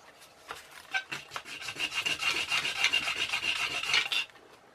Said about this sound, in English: I've wrapped some sandpaper round the pen tube.